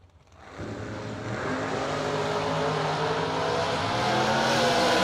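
A 1968 Camaro drag race car launches and accelerates hard down the strip, its loud engine roar climbing steadily in pitch as it pulls away.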